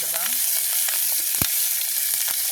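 Chopped dried fish and liver fry in a hot pan, giving a continuous close hiss and crackle, with occasional scraping knocks as the food is stirred; no one speaks.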